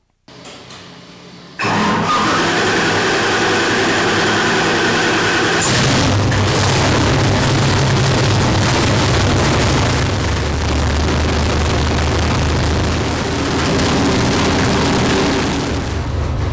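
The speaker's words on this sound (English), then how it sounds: "have you noticed just how great this engine sounds?" A carbureted GenV LT1 V8 stroker engine on a dyno fires up after a brief quiet hum and runs loud and steady, a deep continuous roar that barely varies.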